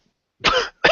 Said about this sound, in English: Didn't mean to cough in your ear there.